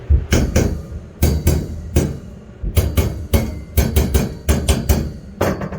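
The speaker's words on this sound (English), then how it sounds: "I do like to get a hammer and just kind of tap them down." A hammer taps metal wire shelving racks in clusters of sharp ringing knocks, close and loud, with short pauses between bursts.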